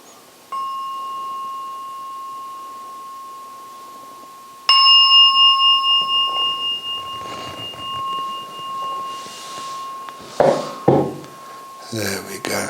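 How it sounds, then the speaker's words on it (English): A meditation gong chimes three times with long, ringing sustained tones, the last one slowly fading while soft movement and a few low voices come in near the end. "When the 3rd chime from the gong starts to disappear, that's the signal to come out from the meditation."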